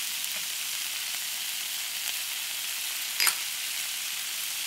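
Green peas sizzling in a hot frying pan for Punjabi samosa filling, a steady bright hiss of oil with a brief burst of crackle near the end, no voices.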